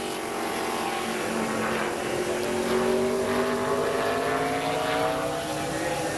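A NASCAR Busch Series race car, Jimmy Means' car, runs a qualifying lap at Indianapolis Raceway Park in 2007, its engine a loud, steady drone with rising and falling pitch as it passes.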